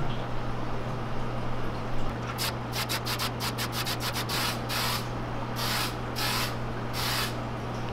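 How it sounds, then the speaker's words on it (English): A spray can hisses in a quick run of short bursts, then a few longer sprays, over a steady low hum. "That seems like a terrible spray."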